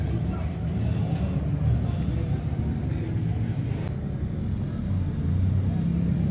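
A drift car at the Vallelunga circuit roars through at close range, a loud continuous engine and tyre rumble filling the whole stretch with no clear pass-by peak, while people talk underneath.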